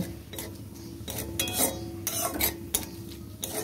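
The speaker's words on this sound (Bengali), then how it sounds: "আলু ভাজা তেলে জিরে, গোটা জিরে দিয়ে দিলাম, তেজপাতা দিয়ে দিলাম" Whole cumin seeds and a bay leaf fry in oil left from frying potatoes, a soft sizzle under repeated clinks and scrapes of a spoon stirring against the pan, close and fairly quiet.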